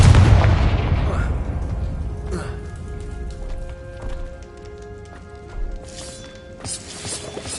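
The Confringo blasting spell in Hogwarts Legacy bursts with a loud, close explosive boom at the start, which then trails off into lighter magical tones and scattered impacts. A voice speaks.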